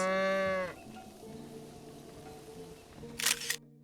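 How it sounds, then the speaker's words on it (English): Decorated cows moo in The Legend of Zelda: Breath of the Wild, one loud harmonic low near the start followed by softer game music, with a brief bright burst toward the end. "Like, these are celebrated beach cows."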